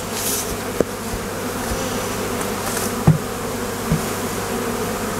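Honey bees hum in a dense, continuous drone around hive frames while a swarm is moved from a trap into a hive, with a few sharp knocks and clicks of frames being handled nearby.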